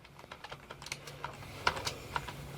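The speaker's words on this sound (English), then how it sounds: "Is that a keyboard?" Rapid typing on a luminous computer keyboard, a quick run of close, crisp key clicks with a few louder strikes, heard alone without talk.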